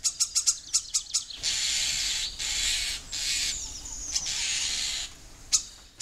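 Starlings call loudly and insistently near a riverbank, with the female urging on the male: a quick run of sharp chirps, then long harsh buzzy calls that repeat one after another, ending in a few more short chirps.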